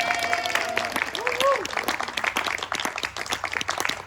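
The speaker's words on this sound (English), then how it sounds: "Waiting for the clap." Scattered clapping from a modest cabaret audience, fairly thin and uneven, with some voices and crowd murmur mixed in.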